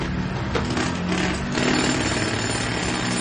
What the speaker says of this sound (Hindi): एक आदमी ड्रिल लिए हुए पत्थर तोड़ रहा था।